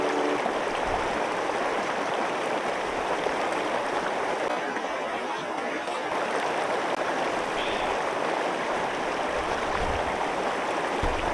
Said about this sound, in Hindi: हिमालयास का बर्फ पिघलने के बाद जो पानी नीचे जा रही है ना, वही है।